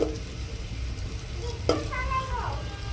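Onion browning in a pan for a small-prawn and sweet pumpkin dish, giving a steady close sizzle with a few stirring scrapes and a brief clatter partway through.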